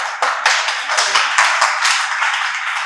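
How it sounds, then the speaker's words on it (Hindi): An audience at a Hindi poetry recital breaks into a short burst of close, brisk hand clapping, sustained and fairly even with a few sharper claps standing out. "भाई ताली बजा दो यार।"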